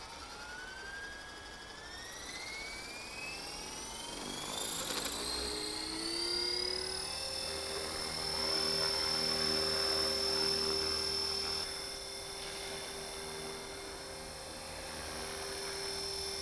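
A Blade 330S RC helicopter's high-pitched rotor whine rises and holds steady, buzzing continuously at moderate distance with faint background noise while it drifts left and forward.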